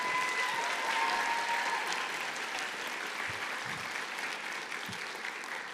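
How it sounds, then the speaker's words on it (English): A high school graduation audience applauds the evening's MC at the ceremony, steady crowd clapping from a large room that holds an even level throughout. "Can I give a round of applause for John Griffiths"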